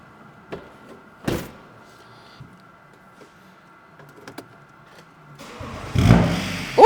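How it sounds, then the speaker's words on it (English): A straight-piped BMW 330d six-cylinder diesel cranks and fires near the end after several seconds of quiet, scattered clunks and knocks, its rough exhaust swelling loudly as it catches and begins to rev. "who's ready to hear what a naughty 330D sounds like? Fully straight piped."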